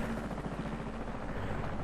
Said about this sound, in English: Oh, it's a airplane ride.